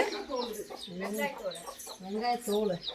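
A hen with her four hatched chicks clucks and calls in a village yard, the rhythmic clucks close and clear, overlapping with bright chirping from the flock.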